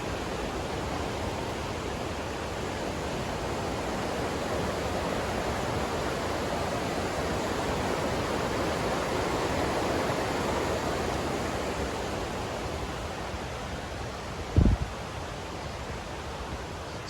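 Steady broadband rush of the Housatonic River flowing beside a daytime Appalachian Trail walk in June, continuous and even throughout, with one brief low thump near the end.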